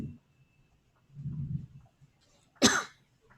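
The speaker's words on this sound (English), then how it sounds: "I don't even know why I turned to cough because I have a mask on." A single sharp cough from a person wearing a mask, brief and fairly close, preceded by soft rustling and breathing in an otherwise quiet room.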